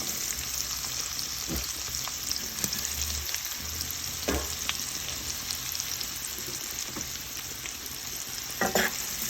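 Thinly sliced bitter gourd sizzles and fries in hot oil, a steady crackling hiss with occasional pops and a few stirring knocks, close and continuous with no talk.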